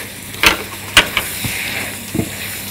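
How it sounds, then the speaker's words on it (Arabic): Onions seasoned with salt and black pepper are stirred while they fry in a pan, giving a few sharp scraping strokes over a soft, steady sizzle, close and fairly quiet. "هقلب كده كويس قوي"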